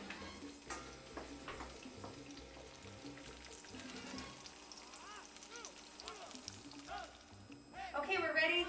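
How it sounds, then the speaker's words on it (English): Egg frying in hot grease while being basted, a soft continuous sizzle and crackle with light spoon scraping, faint and close, without talk. "I'm just gonna take a little bit of that grease that I have, and I'm just gonna baste it right up onto the egg"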